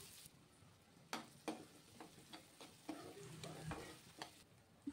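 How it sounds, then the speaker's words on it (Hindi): Onion sizzles in hot oil in a kadhai with mustard seeds, fennel and green chili, faint and close, with a run of sharp spoon-scraping stirs breaking through the low crackle. "इसे भून लेती हूँ।"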